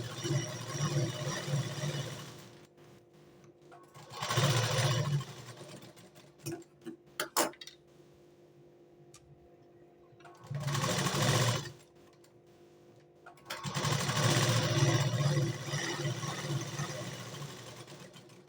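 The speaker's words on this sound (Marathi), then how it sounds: "आता जे साईडला ओपन आहे तिथे मी शिलाई मारत आहे." A sewing machine stitches the open side seam of a blouse in three close, steady bursts, the last and longest running about five seconds, with quiet clicks and handling of fabric between runs.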